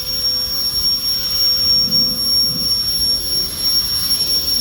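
A turbo fan running steadily in third gear at 760 grams of thrust, giving a continuous loud jet-like whoosh with a sustained high whine, alone without talk throughout.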